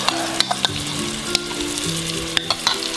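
Kurma spice paste, mixed with a little water, sizzles and fries steadily in oil with sautéed onions, with occasional sharp crackles and pops over the continuous hiss.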